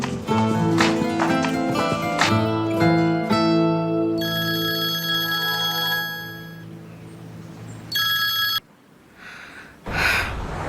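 A loud, melodic phone ringtone plays repeating chimes, then a bright ringing tone that cuts off abruptly, followed by a short quiet gap and a brief burst of noise.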